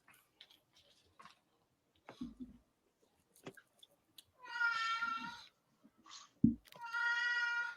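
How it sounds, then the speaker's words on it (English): A 17-year-old cat meows twice, two drawn-out wavering cries a couple of seconds apart, with faint clicks and small indoor noises between them in an otherwise quiet room. "but that's my 17-year-old cat."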